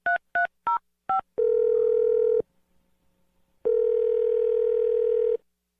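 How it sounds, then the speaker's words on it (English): Telephone keypad tones as a number is dialed: four short separated beeps, then a long steady dial-type tone, a pause, and another long tone, clear and close with no talking. "We're going to dial the number."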